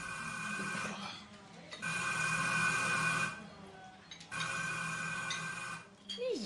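A telephone rings in an Uzbek comedy film scene, two long ringing bursts separated by a short pause, fairly loud in a room, with a voice starting just at the end.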